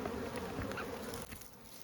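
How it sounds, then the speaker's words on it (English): Dense swarm of honeybees buzzing steadily around a hive box during a nuc transfer, a close, continuous drone that eases slightly toward the end. "You can see all the bees are kind of figuring it out"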